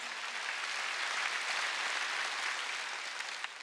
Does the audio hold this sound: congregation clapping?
yes